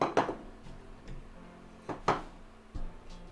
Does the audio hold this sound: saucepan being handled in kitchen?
yes